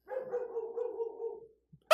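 A dog barks in a long drawn-out howling bark lasting about a second and a half on a fairground, fairly close and alone, followed by a brief sharp noise at the end.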